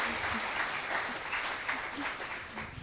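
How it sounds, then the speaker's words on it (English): A whole seated audience at a youth conference panel claps together on request, a dense, steady roar of many hands lasting a few seconds at moderate distance. "Will all of you clap?"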